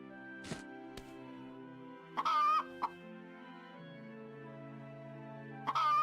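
Chickens in a farming video game giving a few short clucks and squawks at intervals over a steady soft ambient tone, close and clear.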